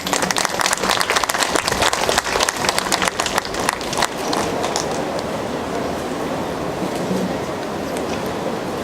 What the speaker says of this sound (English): Friends, a round of applause for Ms.